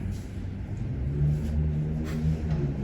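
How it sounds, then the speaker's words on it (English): A big motorbike engine revs in a low, steady rumble that swells and eases slightly over a few seconds, close and fairly loud with no voices. "I do have a motorbike, and it is a big motorbike"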